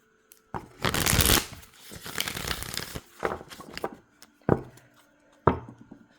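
Tarot cards are riffled and shuffled in quick bursts, a long crisp flurry followed by several shorter snaps, close up and without speech.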